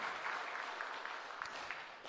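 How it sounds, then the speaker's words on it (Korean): A church congregation claps together in a steady, continuous round of applause during a Sunday service, sustained and fairly even, with no voices over it. "박수 한번 올렸으면 좋겠습니다"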